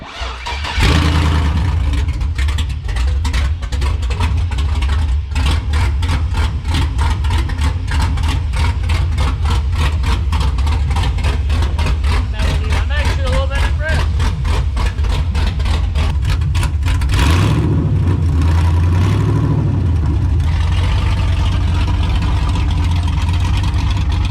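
A truck engine running through new primaries cranks and catches, then settles into a loud, close, steady idle with a rapid pulsing beat, revving briefly near the end.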